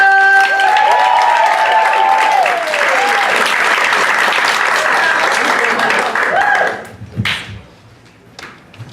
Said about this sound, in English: put your hands together now. Start clapping up for Jessica.